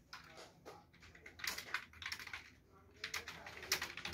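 Typing on a computer keyboard gives soft, quick clicks in irregular bursts with short pauses between them, faint and close in a quiet room.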